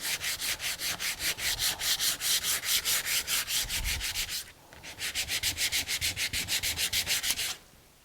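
Sandpaper rubs dried milk paint off a wooden surface by hand in quick, rhythmic back-and-forth strokes, close and steady, in two runs with a short pause between them.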